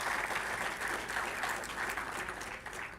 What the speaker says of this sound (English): A big round of applause for the team behind this particular event.